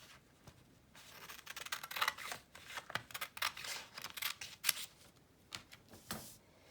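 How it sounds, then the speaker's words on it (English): Scissors snip through paper for a handmade mini book, a quiet, close series of irregular crisp cuts and rustles over several seconds, with no talking. "Get your scissors, and you're gonna cut right here."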